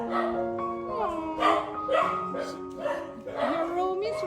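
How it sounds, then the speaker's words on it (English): Several dogs at an animal shelter barking and yipping in quick overlapping bursts, close and loud, with a person talking over them. "there are so many dogs, Foxy."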